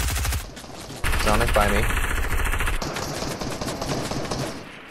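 Gunfire from a legendary weapon in Fortnite, a rapid burst of shots over busy game noise, with a player talking over it.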